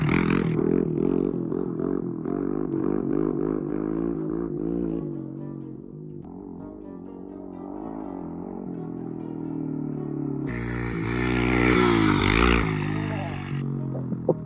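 A pit bike engine idles and chugs on a hill, then sputters and dies as it stalls, with a louder burst of noise near the end; voices talk over it.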